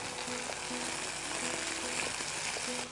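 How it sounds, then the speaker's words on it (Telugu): Onions sizzle and fry steadily in a hot pan, a continuous close crackle with faint stirring clinks, no one talking. "ఆ ఉల్లిపాయలు వేగుతున్నప్పుడు, ఎందుకంటే ఇవన్నీ ఒకేసారి వేగుతాయి"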